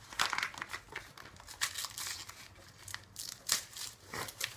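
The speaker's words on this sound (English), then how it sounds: "Let's unwrap these nail polish." Wrapping paper crinkling and tearing as a nail polish gift is unwrapped, a close series of irregular crackly rustles and short tears at moderate level, with no talk over it.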